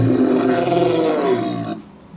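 Ghostly sound effect built from three layered tracks mixed in Reaper: a single loud, roaring, growl-like swell lasting under two seconds, sliding downward in pitch before cutting off abruptly.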